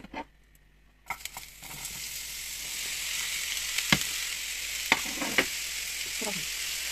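Chopped onion drops into two tablespoons of hot oil in a pan and bursts into a loud, steady sizzle after a quiet start, with a few sharp utensil clicks as it is moved around.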